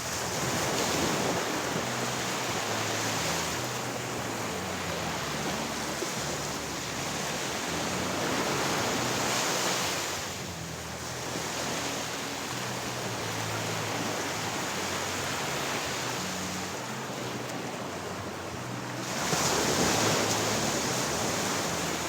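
Sea waves rolling onto the shore in a broad, steady wash that swells and fades in slow surges, with wind buffeting the microphone and no voices.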